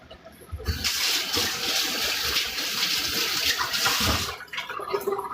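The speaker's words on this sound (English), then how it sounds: "I'll wash my hands." Running tap water splashes over hands in a kitchen sink, a steady broadband gush lasting about four seconds before it shuts off, with quieter kitchen clatter before and after.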